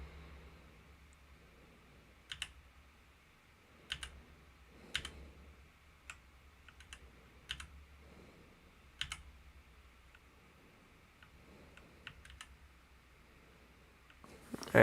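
Sporadic clusters of computer keyboard keystrokes tap close by during a tornado-watch weather livestream, irregular and light over a faint low hum, with no one speaking.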